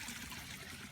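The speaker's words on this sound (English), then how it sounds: "Lovely sound of" Faint water trickles over small rocks in a garden stream, a soft continuous babbling with no voices.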